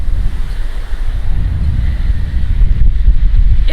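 Surf rolls onto the long main beach of Astola Island off Balochistan, Pakistan, a steady loud wash of waves mixed with gusting wind rumble on the microphone, no voices.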